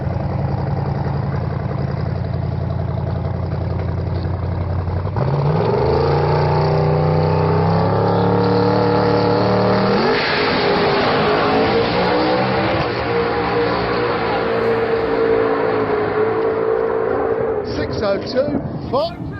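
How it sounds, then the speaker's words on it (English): A drag race car's engine, the car that ran 6.02 seconds at over 250 mph, roars loud and close, its pitch rising and shifting through several sweeps, with talk running over it. "went up to run the car, and lo and behold, the thing goes 602 at over 250 miles an hour"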